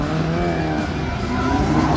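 Chevette car drifting with a loud sustained engine drone and continuous tire squeal, close and steady throughout.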